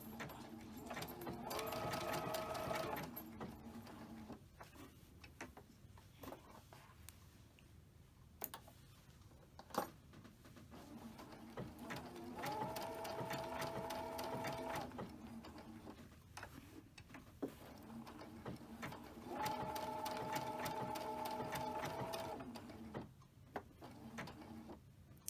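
Sewing machine running a quilting stitch on a heart-shaped mug rug, three rapid whirring bursts of stitching separated by pauses with soft clicks and handling noises, fairly quiet and close.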